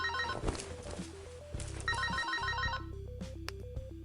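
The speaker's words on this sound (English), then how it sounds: "I cannot recall the last time I called a phone number that did not go to voicemail after so many rings" A telephone rings with a repeating electronic trill, fairly loud and near, mixed with a melodic tone pattern and faint footsteps, with no talk.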